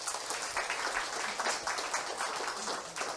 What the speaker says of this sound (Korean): 여러분 이때 박수 한번 치셔야 됩니다.